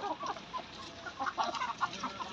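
Several chickens and roosters cluck and chatter close by in a garden in a steady, busy stream of short calls, with no talking.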